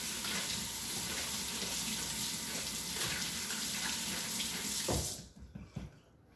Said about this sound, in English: How many times I have to say wash it well before you use it?